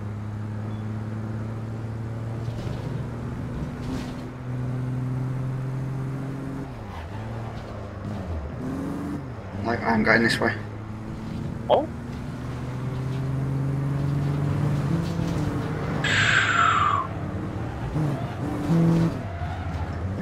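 A car driving and drifting in the video game APB Reloaded: a steady engine drone rising and falling in pitch as it revs, with bursts of tire squeal and skidding, while players talk briefly over it.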